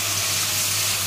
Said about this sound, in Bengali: আর লঙ্কাটা একটু ভেজে নেব।